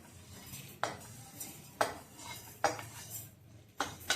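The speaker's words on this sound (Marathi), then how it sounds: "मी हे छानपैकी बारीक वाटून घेते" A cooled urad dal mixture is ground finely by hand, with four or five rhythmic scraping strokes spaced about a second apart over a quiet background.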